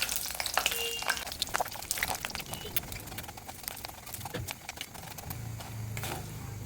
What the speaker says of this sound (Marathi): हे खोबरं घेतलेलं आहे, हे भाजून घ्यायचं आपल्याला।